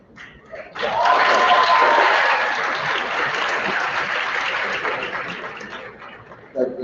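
A crowd at a political speech claps in sustained applause, which swells quickly, holds as a dense wash for about five seconds and then slowly thins out, with a brief bit of speech at the very end.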